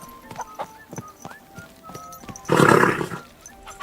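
In the video game Kingdom Come: Deliverance 2, hooves clop in a rhythmic patter, then a horse lets out a loud, rough neigh near the end, close and prominent.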